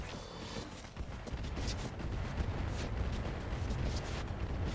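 Mech weapons firing all at once in RogueTech BattleTech, a dense rumbling barrage of booms and blasts that rolls on continuously at moderate distance, with no talk.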